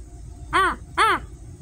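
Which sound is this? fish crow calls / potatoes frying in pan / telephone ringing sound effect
fish crow calls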